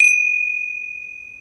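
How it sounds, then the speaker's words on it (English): A single struck metal tone opening a Hindu puja, one clean strike at the start followed by a steady, pure ringing tone that decays slowly and sustains alone with no voices. "I'm going to open and close the puja with a gong."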